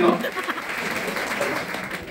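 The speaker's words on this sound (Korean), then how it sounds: "네, 박수드립니다." Guests at a Korean wedding ceremony applaud after the bride and groom bow to each other, a steady wash of clapping filling the hall for a couple of seconds.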